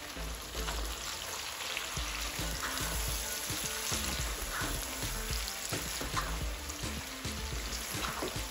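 Masala for a Nepali-style pork curry fries in a pot, giving a soft, continuous sizzle and crackle, faint and steady, with small irregular pops throughout and no voices.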